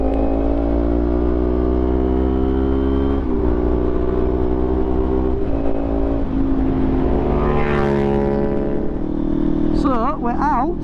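A SINNIS Terrain 380 motorcycle pulls hard in third gear, its engine note climbing steadily as it accelerates close by, with wind rush over the engine and a brief voice near the end.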